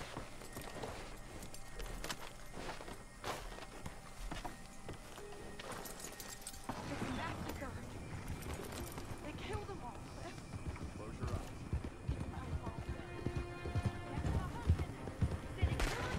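Horses clop along at a walk in the western video game Red Dead Online, hooves thudding steadily and growing busier, with game voices talking over them.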